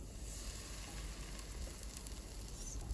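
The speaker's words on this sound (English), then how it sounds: "It sizzles." A steady, soft crackling sizzle of buñuelos de viento batter frying in hot oil, even and continuous throughout.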